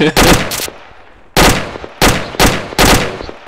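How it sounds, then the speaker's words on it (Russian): Bursts of automatic gunfire in ArmA 2 with the ACE mod, five loud, sharp volleys of varying length separated by short pauses, with no talk over them. "Ой, он еще стреляет еще."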